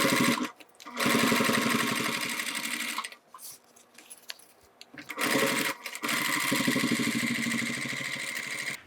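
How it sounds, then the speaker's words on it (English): A sewing machine top-stitches a thick zipper wallet in fast, steady bursts of rapid needle clatter, pausing for about two seconds mid-run before resuming. "we might as well top stitch while we're at it"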